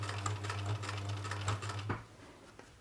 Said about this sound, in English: have a little go at the sewing machine